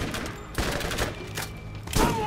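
Rapid SMG fire in Borderlands, a few loud bursts of quick shots spaced over two seconds, close and punchy amid game noise.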